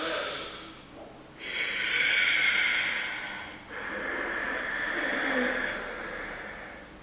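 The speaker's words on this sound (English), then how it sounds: "I'm like really filling my belly up when I inhale" A long, deep belly inhale taken slowly through the body during a calm breathing exercise, heard as two drawn-out, airy breaths close to the ear with no talking.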